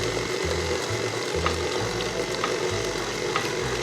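A stand mixer kneading homemade pizza dough after olive oil has been added, giving a steady mechanical whir with a rhythmic low thumping churn, close and continuous.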